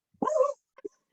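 Dogs give a short bark with a whimpering, yip-like quality, then a second brief, softer yelp a moment later, fairly close and alone.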